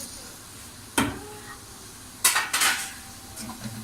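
Chopped onions go into about a cup of hot oil in a cooking pot for karhi pakora, a soft frying hiss under a few sharp clanks of a metal spoon against the pot.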